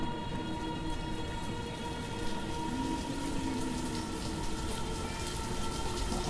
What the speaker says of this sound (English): God, raining again!